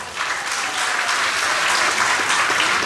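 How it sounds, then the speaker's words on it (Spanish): Loud, sustained applause from a crowd at a corn festival in San José Las Flores, Chalatenango, many hands clapping together in a dense, continuous wash. "Y ahora pido un aplauso enorme para Acasipat de RL."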